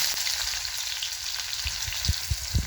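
Chopped onion dropped into hot oil already crackling with mustard seeds and cumin, giving a close, steady frying sizzle with a few sharp pops near the end, no voices.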